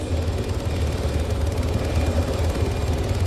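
Steady, droning rotor and engine roar of a helicopter in ArmA 3, continuous and fairly loud throughout with a constant low throb and no talk over it.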